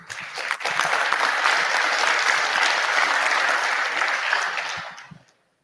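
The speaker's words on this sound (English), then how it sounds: "Let's give the division directors one more round of applause." A crowd claps steadily for about five seconds, a dense even roar of hands that then stops abruptly.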